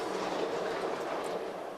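A road train truck rumbles past on the dirt Oodnadatta Track, steady and loud, with a broad rattling roar and no voices.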